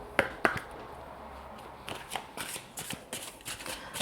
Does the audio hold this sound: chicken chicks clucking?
no